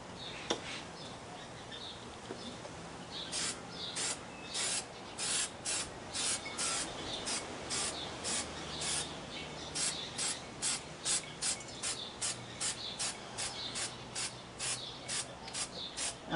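An aerosol can sprays dark paint onto a 3D dinosaur model in a rapid series of short, sharp hissing bursts that grows more regular partway through, with quiet faint rubbing in between.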